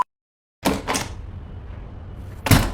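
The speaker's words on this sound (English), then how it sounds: "You want to break my new door?" A door bangs hard twice in quick succession, then a short lingering rumble follows before a third heavy thud lands near the end.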